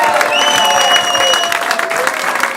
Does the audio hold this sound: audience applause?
yes